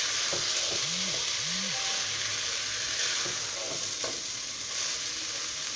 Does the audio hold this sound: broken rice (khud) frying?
yes